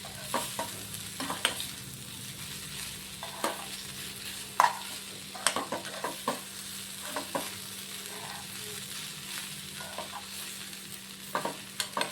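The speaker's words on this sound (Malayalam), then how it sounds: "തേങ്ങ കൂടി ആഡ് ചെയ്ത് നല്ലതുപോലെ ഇളക്കി കൊടുക്കാം" A spatula scrapes and taps in a pan while an ivy gourd stir-fry with grated coconut is stirred. The clicks are irregular over a low sizzle and a faint background hum.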